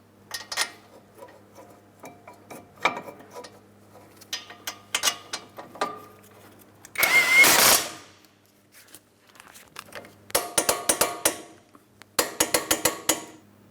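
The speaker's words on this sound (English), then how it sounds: "Start them in, snug them up, torque them to 126 foot-pounds." A wrench tightens the brake caliper mounting bolts on a 2008-2016 Chrysler Town & Country, giving bursts of quick ratcheting clicks separated by pauses and metallic clanks, close and clear, with no talking.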